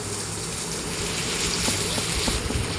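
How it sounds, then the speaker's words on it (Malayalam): A boat moves on water, giving a steady broadband wash of water and engine rumble with faint wind, continuous and fairly close, with a few light knocks near the end. "ഇതാണ് ഗൈസ് ബോട്ട്."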